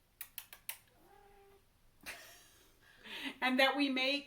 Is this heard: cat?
yes